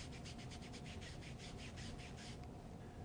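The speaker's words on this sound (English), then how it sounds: "Rub over top of the tape to activate the glue." Brief, close scraping and rubbing as a hand firmly rubs over freshly applied kinesiology tape, a SpiderTech PowerStrip, to activate its glue. The pulses of friction come quickly one after another, then fade to quiet.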